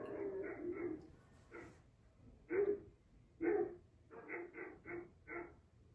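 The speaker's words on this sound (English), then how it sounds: "Do you hear the dogs in my neighborhood right now?" Distant dogs bark in short bursts, a few quick woofs, then single barks spaced apart, then a rapid run of barks, with no talking.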